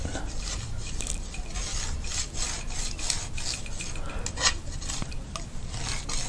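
A surface being wiped and rubbed clean with rubbing alcohol, a continuous close scrubbing sound with rhythmic back-and-forth strokes and no talking.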